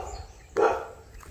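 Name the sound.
dogs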